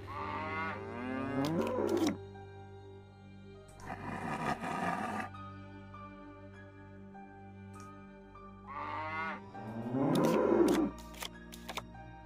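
Cattle lowing in a video game, several long, loud moos that rise and fall, with a noisy burst between them, over a low steady hum.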